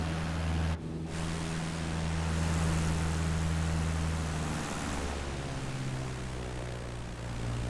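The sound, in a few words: propeller aircraft engine in Neofly flight simulator video game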